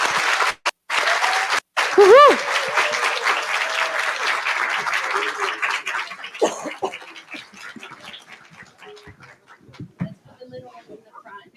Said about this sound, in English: let's give them love and applause